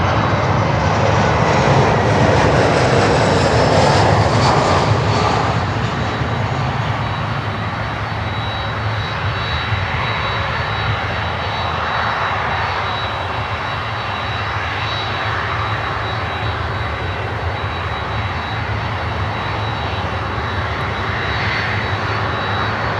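Engines of an Avianca Airbus A320 airliner roar loudly and steadily, swelling slightly at first and then holding an even jet rumble with a faint high whine, alone without talk.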